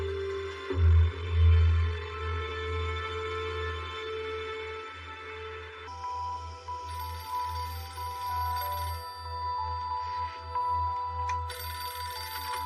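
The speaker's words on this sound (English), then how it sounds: "My phone rang." A telephone rings in the middle of the night, a steady electronic ringtone tone playing over low droning background music and continuing for several seconds without voices.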